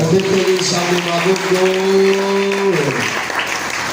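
A church congregation applauds during a celebration service, a sustained wash of clapping mixed with crowd voices and a held vocal tone that fades near the end.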